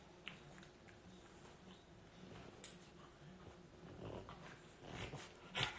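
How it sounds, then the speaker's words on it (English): A small dog growls and snorts softly in short rough bursts, faint and close, with a few quiet background noises. "Look at this little dog. She's so crazy."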